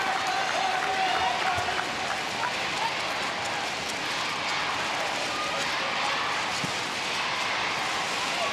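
A handball arena crowd at a women's world championship match between Germany and Sweden cheers steadily, a broad, continuous roar of voices and clapping filling the hall throughout.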